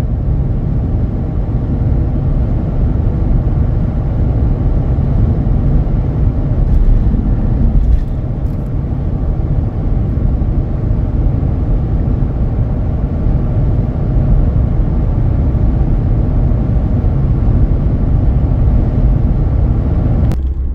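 Falken Wildpeak A/T4W tires rolling on a heavy-duty pickup truck, a steady low road roar and rumble mixed with wind noise and engine hum throughout.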